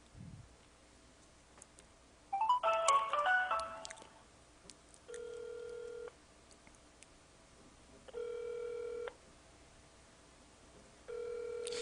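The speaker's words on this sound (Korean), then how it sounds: "우리 삼성이 한테 전화를 해보겠습니다." Phone call placed to wake someone, with a burst of dialing tones followed by three evenly spaced electronic ring tones, each about a second long, repeating clearly in a quiet room.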